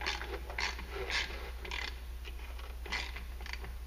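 Ratchet wrench clicking repeatedly as the secondary clutch bolt is torqued down on a 2014-15 Arctic Cat Wildcat Trail/Sport 700 during a clutch kit install; steady close-up ratcheting with a few louder strokes, no talk.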